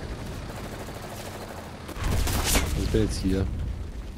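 Gunfire in the World War II shooter Enlisted, with a few loud shots and bursts arriving in the second half of the clip over ambient battlefield noise, while someone speaks briefly beforehand.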